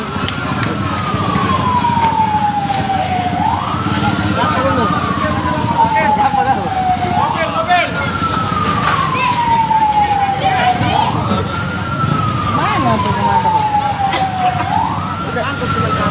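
A loud fire truck siren at a guesthouse fire in Rimo, Aceh Singkil, sweeps up and down in repeated slow cycles over a rumbling street, continuing steadily throughout.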